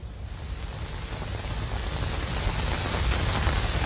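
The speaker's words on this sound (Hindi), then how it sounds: "काफी तेज बारिश हो रही है" Heavy rain pours down steadily on Connaught Place, Delhi, a dense, loud hiss of drops on hard surfaces that builds slightly, with no voices.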